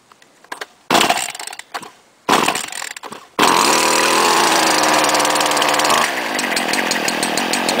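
STIHL gas string trimmer engine, first a few short bursts of a two-stroke motor with gaps between them, then a loud continuous high-pitched revving that holds steady and drops slightly in pitch near the end.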